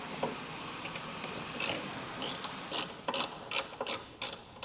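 A 3/16 Allen key works bolts loose on a motorcycle gauge relocation kit, giving a quiet, close series of short metallic ratcheting clicks in irregular bursts.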